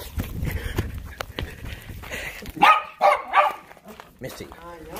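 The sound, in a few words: dog barking while being chased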